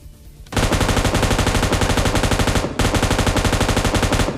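Sustained automatic gunfire in PUBG Mobile Lite rattles in two rapid, loud bursts, a continuous string of close shots with a brief break partway, and no talking.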